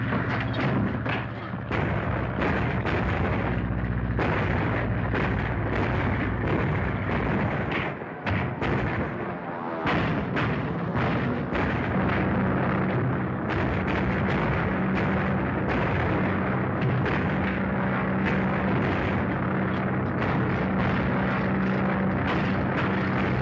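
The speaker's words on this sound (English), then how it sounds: "There's a stolen plane over your section." An aircraft drones overhead amid dense, continuous artillery and gunfire barrage in a 1943 wartime serial scene, with loud booming and rumbling filling the entire stretch without pause.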